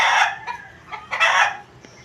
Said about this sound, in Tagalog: May nangitlog yatang manok.